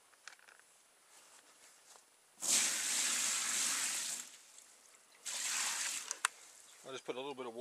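Water poured into a plastic tub fitted with a fly-screen frame for a solar wax melter, heard as two separate bursts of steady, close pouring splash with brief quiet gaps, followed by a voice at the end.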